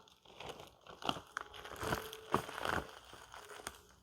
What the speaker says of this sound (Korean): 물기를 완전히 제거한 오이를 비닐봉지에 넣습니다